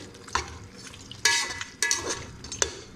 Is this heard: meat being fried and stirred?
yes